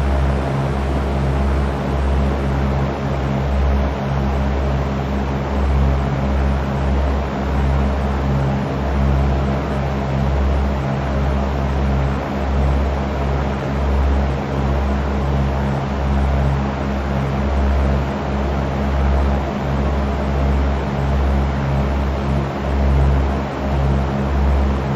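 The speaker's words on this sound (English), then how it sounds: "Engine RPMs sound good." A Cessna 172's piston engine drones steadily in flight at about 2100 RPM, a constant low hum with strong harmonics that stays loud and unbroken, with no talking.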